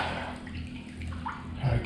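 Water runs steadily into a private hot spring soaking tub at a spa in Truth or Consequences, New Mexico, a soft continuous pour with faint dripping, close by and quiet.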